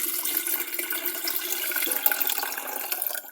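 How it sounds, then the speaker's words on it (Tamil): Water pours and splashes steadily into an electric kettle, a continuous close rushing sound with no voices. "தண்ணியை விட்டாச்சு"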